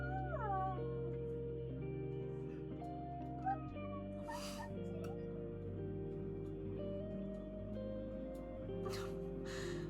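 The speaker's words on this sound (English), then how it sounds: "I just wanted to get like the audio of his meows because it's so cute." A rescued cat meowing in a few short chirp-like calls near the start, with soft faint cries later over low background music and a hum.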